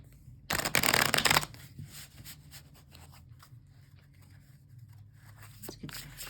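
Tarot cards are shuffled in a quick, loud riffling burst near the start, followed by softer card handling and rubbing sounds.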